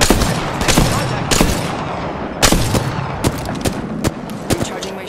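Rapid bursts of gunfire in a shooter video game, with sharp shots and short automatic volleys repeating throughout at close range over a steady background of game ambience.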